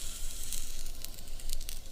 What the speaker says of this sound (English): Oh, there's a little bit of sizzle, but not much.